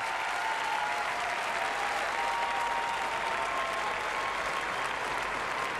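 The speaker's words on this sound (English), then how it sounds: "Ooh, the crowd love it." Sustained applause fills a ballroom as the audience at a world Latin dance championship cheers a finished paso doble, a thick, constant roar of many hands clapping, unbroken from start to finish.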